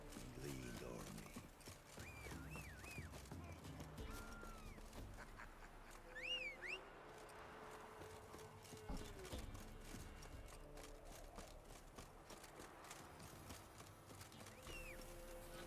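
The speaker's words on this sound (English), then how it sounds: "Come on, horse." Horse hooves clip-clopping in The Witcher 3, a steady quiet trotting rhythm under someone speaking, with occasional other game sounds.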